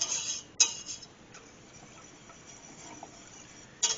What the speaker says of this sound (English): let me get a little whisk so we can break that down